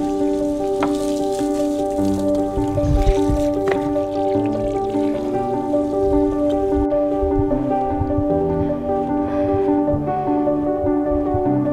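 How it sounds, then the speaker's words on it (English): Water pouring into a goat's water container on a farm, a steady rushing splash with ringing resonant tones as the container fills, loud and close, with no talking. "I dumped the water out. Hold on, let me fill it."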